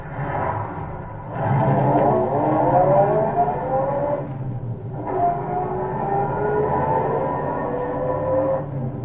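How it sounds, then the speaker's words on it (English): An old car engine, after its carburetor is cleared, cranks on a reluctant starter and then runs and pulls away, a steady mid-low motor drone that rises and shifts pitch in surges, with a short dip before revving on. "cleared the carburetor, stepped again on the reluctant starter,"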